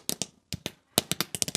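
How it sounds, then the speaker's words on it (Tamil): A string of saravedi firecrackers, a ball of 500 roll caps, set off for Diwali: sharp, loud, close cracks in irregular rapid clusters, separated by brief silent gaps. "சரவெடி ஸ்டார்ட் ஆயிடுச்சுங்க"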